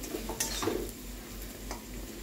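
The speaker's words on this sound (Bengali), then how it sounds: "আলুটা নাড়বো, নেড়ে" Potatoes stirred in a cooking pan with scraping, clinking strokes of a utensil against the pan and a faint low sizzle underneath, close and steady with a few louder scrapes.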